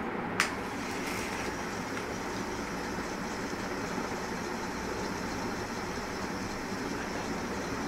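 A small motor driving an Arduino POV display spins up after power-on, giving a steady, fairly faint whirring hum, opened by a short sharp click, with no talk.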